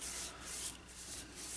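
Sandpaper rubs steadily against a spinning walnut bowl on a woodturning lathe, a close, continuous rough hiss with slight pulsing swells.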